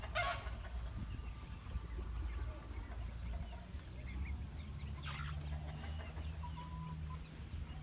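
Chickens cluck intermittently in a coop over a steady low background hum, with a few brief louder calls from the flock.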